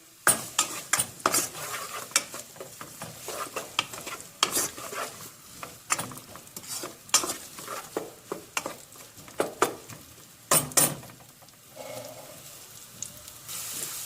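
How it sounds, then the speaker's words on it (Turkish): Peppers, onion and garlic sautéing in hot oil in a pan, with repeated close stirring scrapes and clinks of a utensil against the pot over a low sizzle, alone without talk. "Şimdi biber, soğan ve sarımsağımı ekliyorum. Yağda biraz kavuracağım."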